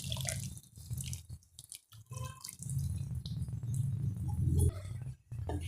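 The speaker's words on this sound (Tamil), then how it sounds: "நான் புளியை கொஞ்சமாக தண்ணியில் கரைச்சி சேர்க்குறேங்க" Tamarind water pours and splashes into a pot of okra curry in uneven bursts, with gurgling and dripping between pours, close and moderately quiet.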